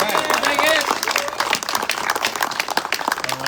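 An audience at a bookshop event in Provincetown claps and cheers for the host, uneven bursts of hand clapping with voices mixed in, loudest at the start and thinning toward the end.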